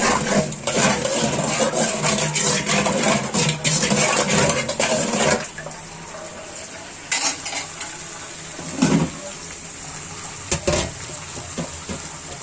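Rohu fish pieces being washed with water in a cooking pot, with clattering pot and utensil knocks and splashing, busy and close for the first five seconds, then sparser scattered clinks and splashes.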